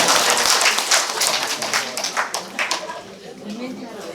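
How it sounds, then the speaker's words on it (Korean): A lecture audience breaks into applause as the speaker is introduced, a dense burst of clapping that gradually fades out over a few seconds. "큰 박수를 맞아주시면 감사합니다"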